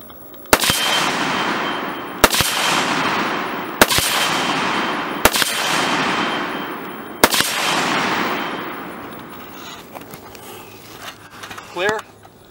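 Gunshots ring off steel targets: five sharp, loud reports spaced about a second or two apart, each followed by a long metallic decay, then quieter handling noise at the end.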